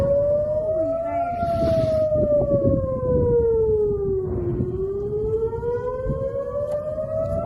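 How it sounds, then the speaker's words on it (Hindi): Air raid sirens wail steadily over a dense, noisy background, their pitch rising and falling slowly and continuously, sounding during an Iranian missile attack on Israel. "वहां जो सायरन्स हैं वो बजते ही जा रहे हैं"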